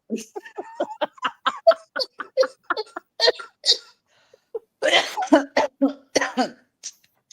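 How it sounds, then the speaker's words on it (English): A long run of short, rapid coughs mixed with laughter-like chuckles, close and loud, pausing briefly before another burst of coughing. "Y'all making me laugh that I'm coughing"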